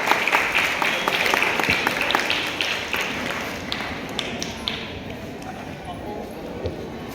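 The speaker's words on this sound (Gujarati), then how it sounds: "જોરદાર કરતલ ધ્વનિઓથી એમને વધાવી લઈએ." At a Republic Day celebration in a residential society, a crowd claps loudly for a person being honoured, with distinct sharp claps that thin out and fade over several seconds.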